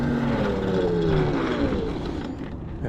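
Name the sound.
WindOne RM7 electric unicycle motor at full throttle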